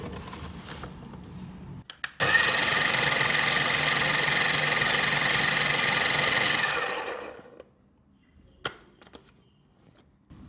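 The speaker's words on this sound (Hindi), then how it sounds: "अब इसको ब्लेंड कर लेंगे।" A blender whirs steadily for about five seconds, grinding a green chutney of yogurt with roasted crushed coriander and cumin. The steady, loud motor roar starts abruptly, then winds down, with brief clatter before and after.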